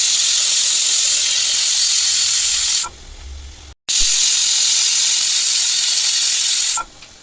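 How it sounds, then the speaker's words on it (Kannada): A pressure cooker cooking soaked legumes lets out long, loud, steady steam whistles, a continuous hissing blast that briefly drops away and cuts out before resuming, then stops near the end. "ವಿಸಿಲ್ ಹಾಕ್ಸಿದ್ದಾಯಿತು."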